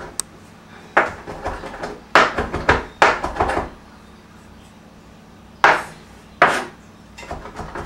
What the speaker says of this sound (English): and then we just chop them up